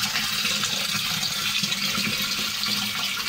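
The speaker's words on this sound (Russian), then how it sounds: "вода уже пошла" Water pours steadily into a malt mashing tank used for whisky mash, a continuous close rushing and splashing flow with no talk.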